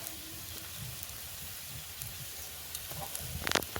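Onion, garlic and spices fry in a pan with a steady, faint sizzle that crackles throughout, a few sharper pops near the end, no voices.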